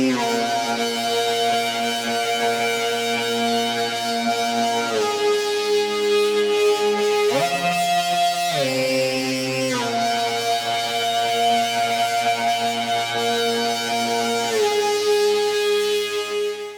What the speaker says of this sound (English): today, we're going to be designing a melodic pad.